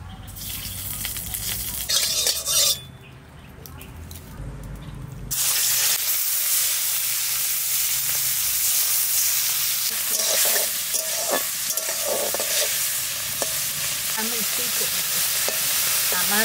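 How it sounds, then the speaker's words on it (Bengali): Shrimp rubbed with salt and turmeric goes into hot mustard oil. A few seconds of stirring and clatter give way to a loud, continuous sizzle and hiss that carries on to the end. "চিংড়ি মাছ ভাজা করব,"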